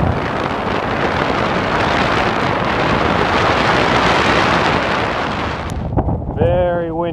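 Strong wind buffets the microphone on an open ferry deck, a loud continuous roar that drops away near the end as a voice begins talking.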